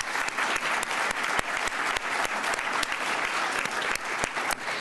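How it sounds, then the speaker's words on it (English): Dense, steady applause from an audience honoring an award recipient at a State Department film premiere panel, sustained and fairly close throughout with no break. "I think you deserve another round of applause"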